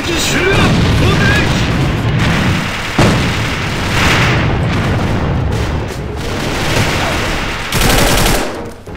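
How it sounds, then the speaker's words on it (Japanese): A grenade explosion in the online shooter AVA during a competitive round lands amid heavy gunfire and booming blasts, loud and close, with dense machine-gun bursts throughout. "敵手榴弾投擲。"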